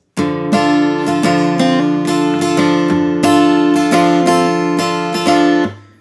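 An acoustic guitar plays the second part of the intro to a song, with fast, even rhythmic strumming and bright ringing chords, close and loud, alone without talk.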